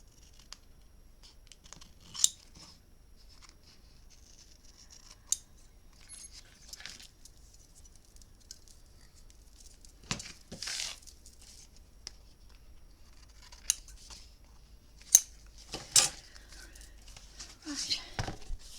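Scissors trimming paper for a handmade mini album, heard as several brief, quiet snips and crisp paper rustles scattered over a low, steady background.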